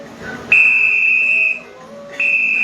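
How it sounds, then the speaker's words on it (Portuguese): Two shrill, sustained referee whistle blasts, the first about a second long and the second starting near the end, loud and close with no talking. "apito do juiz, vamos lá?"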